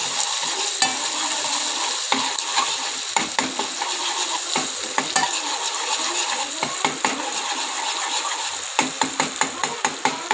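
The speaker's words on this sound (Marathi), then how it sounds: "आपला महाराष्ट्रीयन मसाला गोडा मसाला टाकायचा आणि गॅस मंद फ्लेमवर ठेवायचा आणि चमच्याने ठेवून घ्यायचं" Goda masala frying over a low gas flame while a spoon stirs it in the pan, a constant soft sizzle with repeated clinks and scrapes of the spoon against metal, growing more rhythmic near the end.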